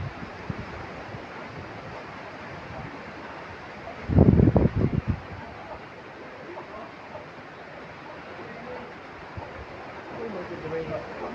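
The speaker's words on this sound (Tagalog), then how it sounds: "Oh my God, hangin." Strong typhoon wind buffets a microphone over banana plantings, a continuous roaring rush with a sharp burst of heavier gusting midway, while voices speak faintly underneath.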